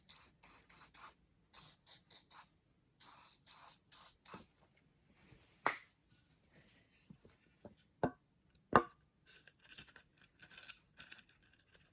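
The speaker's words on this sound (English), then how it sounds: "Give her some spray in here." Several quick hissing bursts of spray, close and loud, are applied onto a seized piston in a 1948 Ford 337 flathead V8 engine block, followed by sparse clicks and light metallic handling noises.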